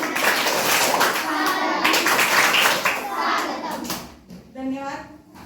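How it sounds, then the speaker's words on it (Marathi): Schoolchildren clap in a rhythmic group welcome for a headmistress at a school gathering, with dense applause for several seconds fading out, followed by a voice. "आता आपल्या शाळेला लाभलेल्या मुख्याध्यापिका त्यांचं आपण वेद टाळीनं स्वागत करूया"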